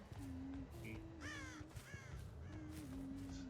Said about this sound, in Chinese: 有乌鸦飞起来了。